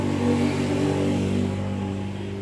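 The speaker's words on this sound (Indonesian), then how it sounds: "suara motor." A motorcycle engine drones close by, a steady low hum that swells slightly and then eases off.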